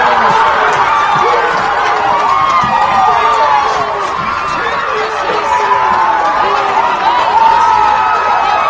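Rugby league crowd at a Canterbury-Bankstown Bulldogs grand final cheers and shouts as the siren sounds, a loud, sustained roar of many voices with excited calls rising through it and chatter mixed in.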